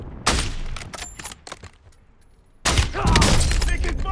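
Gunfire in the Warzone battle royale game: a sharp burst of shots at the start, scattered pops through the middle, then a dense, loud stretch of rapid shooting near the end.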